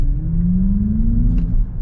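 A 2024 Acura ZDX electric SUV accelerating, a loud steady low whir and road rumble rising gently in pitch, close and continuous, with no voices.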